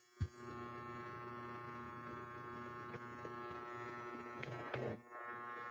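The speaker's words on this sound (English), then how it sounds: "it's the dryer" A household clothes dryer running with a steady, continuous motor hum and faint tumbling rattle, heard close and alone after a brief knock at the start.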